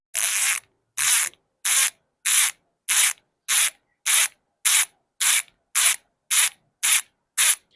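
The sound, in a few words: Weapon Enduro bicycle hub freewheel ratchet sound check, sticky grease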